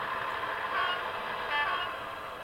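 A Bachmann Branchline BR Class 108 diesel multiple unit model produces a steady, moderate electronic diesel engine idle sound, a continuous droning hum with slight swells, alone with no talk.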